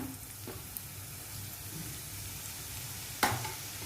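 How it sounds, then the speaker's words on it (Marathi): Garlic frying in a pan, a faint, even sizzle that stays quiet and continuous, with one brief clink of a utensil near the end. "लसून व्यवस्थित असं भाजून घेऊया"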